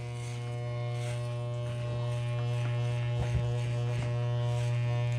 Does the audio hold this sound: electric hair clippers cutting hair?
yes